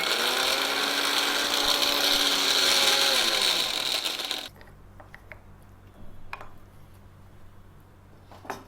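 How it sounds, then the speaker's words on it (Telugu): An electric mixer grinder whirring loudly as it grinds pounded organic ginger, a steady high roar for about four seconds that winds down and stops, followed by quiet clicks and light handling sounds. "సో ఇలా దంచుకున్నాం, దీన్ని ఇప్పుడు మిక్సీ చేస్తాం."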